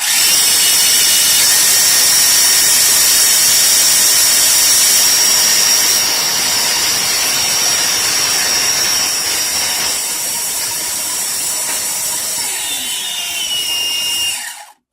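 A Promark P70 VR quadcopter drone with upgraded motors spins up for takeoff, a loud, steady high-pitched whine of the rotors holding for about twelve seconds before shifting pitch and cutting off abruptly.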